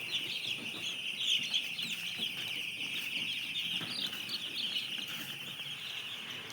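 A brood of domestic chicks under a halogen heat bulb keeps up a dense, continuous chorus of high chirping, close and even, with no talk.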